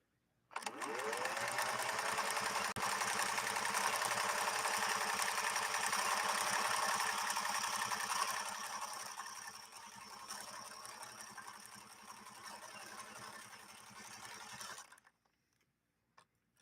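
A Husqvarna Viking embroidery machine stitches a design in a steady, continuous mechanical whir for about fourteen seconds, loud and close at first, then dropping slightly in level as it runs before stopping abruptly.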